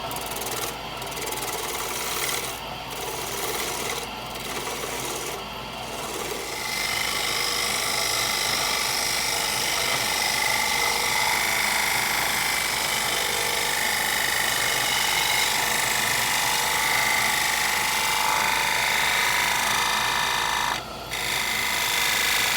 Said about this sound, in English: We're just going to be taking very light cuts to take this tenon off of here